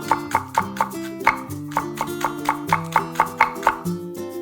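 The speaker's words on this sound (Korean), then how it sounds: "파는 길이로 반 가르고 또 반 갈라서 송송 썰어주세요." A knife slices green onion on a cutting board in a home kitchen. Quick, even chopping taps come in a steady rhythm, close and clear, over a soft background melody.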